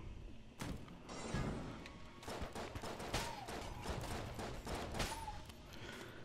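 Constant gunfire in the twin-stick shooter Enter the Gungeon, a dense barrage of quick shots and thuds rattling on without pause, with a couple of short chirping effects mixed in.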